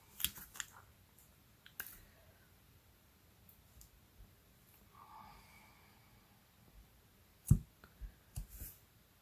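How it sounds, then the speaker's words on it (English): Tape being handled and pressed onto a rubber stamp at a craft table, quiet scattered clicks and soft tearing and rubbing sounds with a sharper snap near the end, no voices. "I'm going to tape off the back section."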